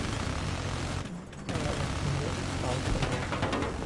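Battlefield 4 gunfire at Lancang Dam: dense, continuous automatic fire and explosions fill the whole clip, with a brief dip near the start. People talk over it.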